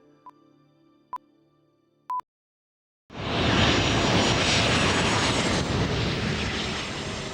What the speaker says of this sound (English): military aircraft have been ubiquitous in Tucson skies